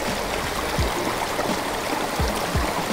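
Tiny roadside creek in North Jersey flowing over stones, a continuous close babbling and trickling rush with a few low gurgling splashes.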